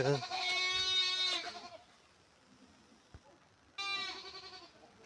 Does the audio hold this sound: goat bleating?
yes